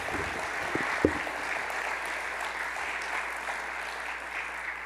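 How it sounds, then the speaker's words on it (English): A crowd at a university alumni Hall of Fame ceremony applauds the inductees. The sustained clapping is steady and even, with a low constant hum in the background and a couple of sharper claps near the start. "Can we give one more round of applause for all the inductees?"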